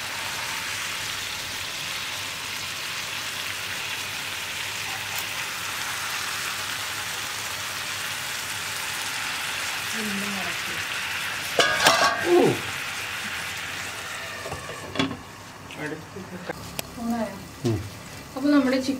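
Chicken pieces frying in oil in a pan, a steady crackling sizzle throughout at moderate level, with a few louder clatters and stirring sounds near the end.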